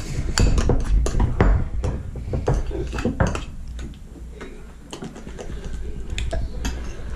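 Homemade slime being stirred and mixed in a bowl makes close, irregular clicks, taps and sticky squelches that come in bursts, with the utensil knocking against the bowl.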